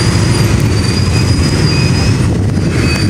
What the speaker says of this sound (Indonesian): kereta perjalanan rel Dandala sudah dilangsir menuju jalur berapa nih